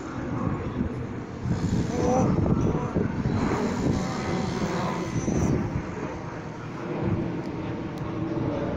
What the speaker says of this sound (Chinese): 有一架飞机，